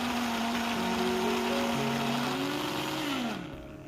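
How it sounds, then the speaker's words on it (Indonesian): An electric blender grinds shallots, garlic and ginger with a little water into a spice paste. Its motor whines loud and close, the pitch rising and falling as the load shifts, then slows down at the end. "Lalu kita blender sampai halus."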